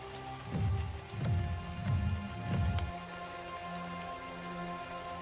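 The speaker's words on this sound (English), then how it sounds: "It's raining a lot." Rain pours in the survival game ARK Survival Evolved: a constant crackling patter of drops on surfaces, with several soft low thuds in the first half, steady and moderately loud, with no voices.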